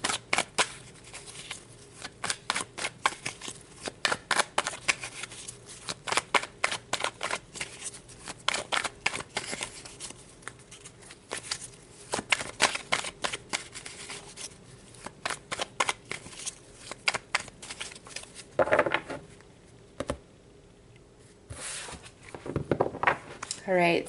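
Tarot cards are shuffled by hand in repeated quick riffling bursts, close and crisp, with brief pauses between rounds and a few softer handling rustles near the end.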